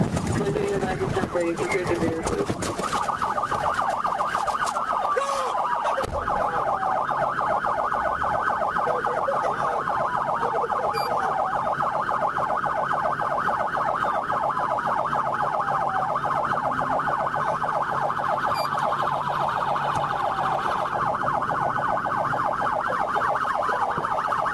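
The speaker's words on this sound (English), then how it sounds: "he driver refused to stop when Trooper Perez activated his blue lights and sirens." Police sirens wail continuously and loudly as a trooper's patrol car chases a slow suspect vehicle with a blown rear tire. The steady warbling siren starts after a few seconds, and a voice talks over it.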